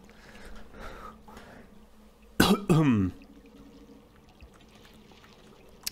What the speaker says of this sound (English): Man, I'm really coughing up a storm, eh?